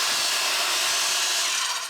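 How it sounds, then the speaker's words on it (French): Circular saw cutting through timber for roof rafters in traditional carpentry, a bright whining hiss of the blade biting into wood, steady and close for the whole moment. "je viens d'engager ma circulaire"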